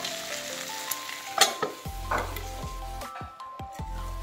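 Potatoes with duck meat fry in oil with a loud steady sizzle near at hand, punctuated by sharp stirring clatters and scrapes against the pan, with faint steady tones in the background.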